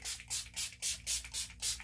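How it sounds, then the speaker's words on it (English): Repeated pumps of a Revolution Makeup Pro Base Aqua Priming Base Spray, seven quick hissing bursts in an even rhythm, close and clear with no talking. "now I'm gonna go in with my Revolution Makeup Pro Base Aqua Priming Base Spray."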